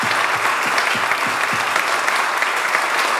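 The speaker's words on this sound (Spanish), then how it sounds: "Así que yo quería pedir un aplauso para Mónica Pinto" A human rights congress audience applauds for Mónica Pinto, steady, even clapping from a sizable crowd that fills the room throughout, with a few low thumps underneath.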